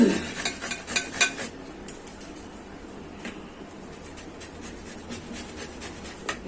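Bottle gourd is grated on a coarse grater into water, giving quick rhythmic rasping strokes at first that settle into a softer, continuous scraping close up, with no talking.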